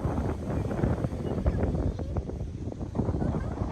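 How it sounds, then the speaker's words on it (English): Strong wind buffets the microphone with gusty low rumbling and rustle throughout, loud and close, with no clear speech, at 14 Mile on the Ningaloo Coast. "we've woken up to another really windy day here on 14 Mile"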